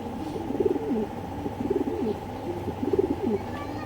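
Racer pigeons cooing in rhythmic, repeated phrases, close by and fairly loud, over a steady low background hum.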